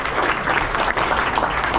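An audience claps steadily and densely throughout, a loud continuous patter of many hands with no voices over it.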